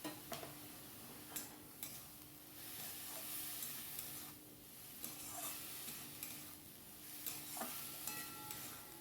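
Red spinach with salt and turmeric being stirred in a wok, a quiet steady sizzle punctuated by regular scraping and tapping strokes of the spatula.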